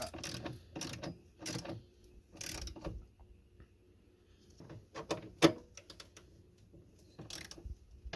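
A ratchet with an extension tightens a car battery terminal on a Chevy Avalanche, clicking in several short close bursts separated by quiet pauses.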